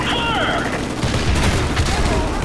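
Gunfire in Call of Duty: Modern Warfare Remastered, a dense burst of rapid shots that starts about a second in and keeps going, loud and close, over game noise with faint chirping sounds early on.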